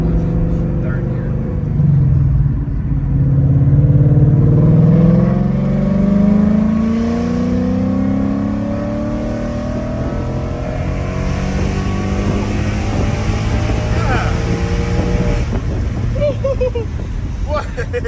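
An E85-tuned Ford Mustang pulls hard in third gear, its engine note climbing steadily in pitch over several seconds as it revs high, loud from inside the car with people talking over it.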